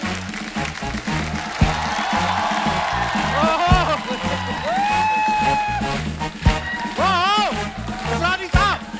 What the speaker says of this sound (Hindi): तो सबसे पहले आप सबकी जोरदार तालियों के बीच प्लीज वेलकम असरानी साहब।